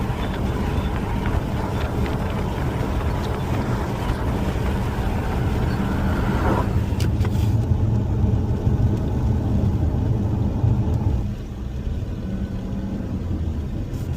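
Interior drone of an Infiniti QX50 with a 4-cylinder turbo engine and K&N drop-in air filter, driving steadily: a constant low rumble with road and wind noise, easing slightly near the end, no talking.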